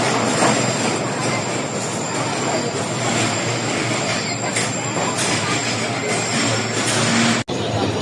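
A Pakistan Railways train arriving at platform 2 on the Gujranwala to Rawalpindi run, a loud continuous rumble and rattle of wheels and carriages with a brief dropout near the end.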